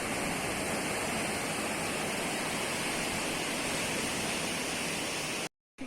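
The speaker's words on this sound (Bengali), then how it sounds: "সকালবেলা চলে আসলাম সাগরের ঢেউ দেখতে তো দেখেন ঢেউ একদিক থেকে শুরু হচ্ছে অন্যদিকে শেষ হচ্ছে" Sea waves break on the beach at Kuakata in a constant, loud wash of surf noise, a dense unbroken roar that drops out briefly near the end, with no voices.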